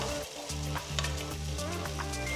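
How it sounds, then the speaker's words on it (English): Sliced onions, chopped green chilies, ginger and cashew nuts sauté in a hot pan with a steady, close sizzle. The sizzle runs on evenly throughout, with soft stirring noises and no talking. "Saute the onions till they are about golden color."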